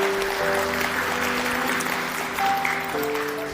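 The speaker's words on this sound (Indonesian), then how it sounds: "Kita beri tepuk tangan untuk kebenaran ini." A church congregation claps steadily in a dense, continuous wash of applause, with sustained keyboard or organ tones playing underneath.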